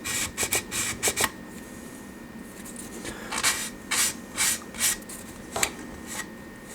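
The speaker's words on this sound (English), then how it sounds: "take a thicker grade of sand stick just to clean that edge up a bit." A sand stick scrubs along the edge of a plastic model part in short, quick rasping strokes, arriving in small bursts separated by pauses, faint and close by.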